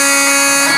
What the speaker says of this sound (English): just had to wait for the buzzer.